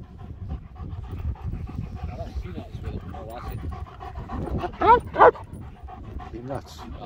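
A dog pants in quick, soft breaths close by, with a couple of short whimpers or yips, under ongoing conversation from people nearby.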